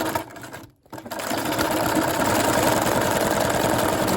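A sewing machine zigzag-stitches a fabric heart, a rapid close mechanical chatter that stops briefly, then resumes and runs steady and loud with no talk.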